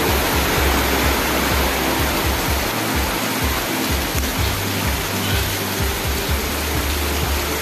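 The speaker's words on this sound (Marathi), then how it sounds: "खूप जोरामध्ये पाणी चालू आहे." Water pours down loudly and steadily outdoors on the road toward Raigad in Maharashtra, a dense unbroken roar with a low rumbling undertone throughout, close and without any talk.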